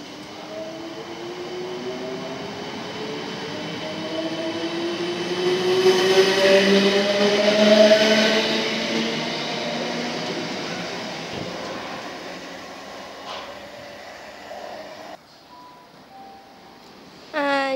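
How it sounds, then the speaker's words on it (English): A South Western Railway train departs New Malden station, its rising motor whine and wheel rumble swelling to a peak and slowly fading away, with faint platform noise at the end. "now departing is the 15:40 South Western Railway service to London Waterloo from Shepperton"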